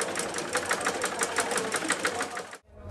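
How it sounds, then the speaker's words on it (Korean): A sewing machine runs at a fast, steady clatter with rapid rhythmic stitching, then stops abruptly near the end. "재봉틀 소리가 희망차게 들린다"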